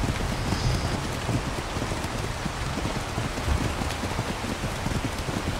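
Constant rain patters and hisses evenly throughout, moderately loud with no voices, in a video game.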